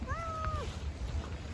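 A single drawn-out cat meow, gliding slightly in pitch, close by over a low rumbling background, outdoors at a feeding spot with rain threatening.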